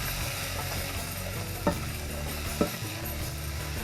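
Chopped onions sizzle in a hot pan while being cooked for restaurant-style dal makhani. A steady, close frying hiss is broken by two sharp clinks of the stirring utensil against the pan.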